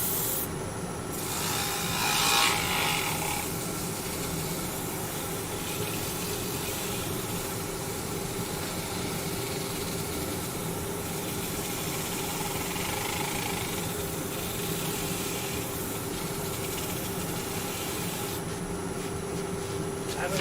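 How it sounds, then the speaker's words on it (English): Sandpaper rubbing over a wooden bowl, worked first at 120 grit and then 180, gives a steady, continuous rasping hiss that runs without a break at close range, with no talk over it. "we just sand this down"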